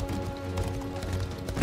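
Hoofbeats of a horse in a video game trot along with steady clip-clop under a continuous drone of game music and ambience, with no voices.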